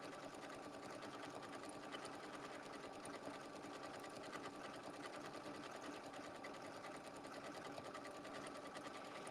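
A sewing machine sews decorative stitches on Christmas appliqué circle motifs, a steady rapid mechanical hum and needle clatter running continuously at an even, moderate level throughout, with no voices.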